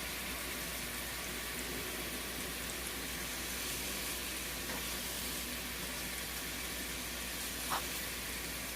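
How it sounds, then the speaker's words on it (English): Food simmers in a pan with a soft, steady sizzling hiss, faint and continuous, with a small clink near the end and no talk. "I'm just going to let this simmer for about, I don't know, 10 minutes or so and check on it"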